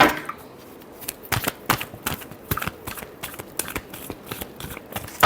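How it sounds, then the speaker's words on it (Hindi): Tarot cards are shuffled by hand in a quick run of sharp, riffling slaps and flutters, close and alone without speech. "Last shuffle."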